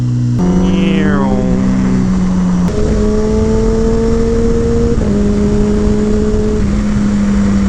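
A Kawasaki Ninja ZX-10R sport motorcycle is ridden hard on a twisty canyon road with slow corners, its engine rising and falling through revs and gear shifts, loud and close under steady wind rush.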